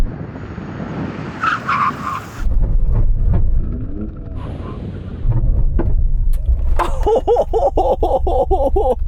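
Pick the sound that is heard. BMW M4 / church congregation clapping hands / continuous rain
BMW M4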